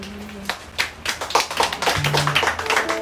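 A church congregation at a worship service starts with a few scattered claps, then builds into rhythmic group clapping over a low sustained tone.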